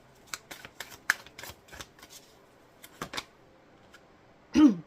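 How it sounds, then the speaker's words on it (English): Tarot cards being shuffled by hand, a series of short crisp riffling bursts and soft card slaps, close and quiet, ending with a brief vocal noise. "I'm gonna shuffle."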